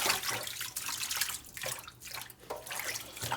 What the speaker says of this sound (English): So we're just going to give this a wash in the sink.